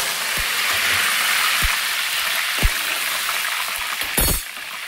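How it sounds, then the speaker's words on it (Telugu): Curry leaves and dried red chillies sizzling in hot oil, a steady, loud, hissing fry throughout with a few soft pops and a brief spatter near the end, no talking. "ఫస్ట్గా మనం చక్కగా కరివేపాకుని ఎండుమిరపకాయలు వేద్దాం"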